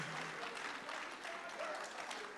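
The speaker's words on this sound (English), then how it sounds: "Warmer applause, please." An audience keeps up a steady wash of applause at a book launch, hands blending into an even, mid-level noise with no break.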